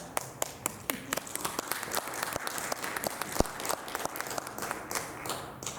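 An audience applauds after a piece at a concert, with a steady patter of many hands clapping at moderate volume and a few sharper individual claps.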